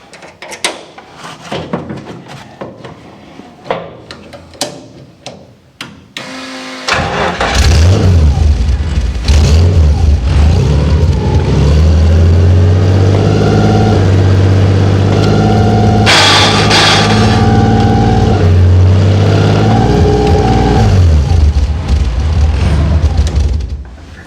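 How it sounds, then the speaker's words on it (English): A GT3 road race car engine starts up after scattered clunks and handling noises, then roars loudly and steadily close by, with a rough gear-change moment as the transmission grinds going into third. "Bad news, transmission grind's going into third gear."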